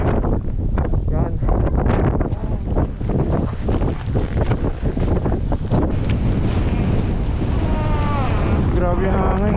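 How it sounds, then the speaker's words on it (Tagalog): Strong mountain wind at the Sunshine Village ski area near Banff roars steadily and loudly across the microphone, a constant heavy buffeting that continues throughout. "Grabe ang hangin, guys."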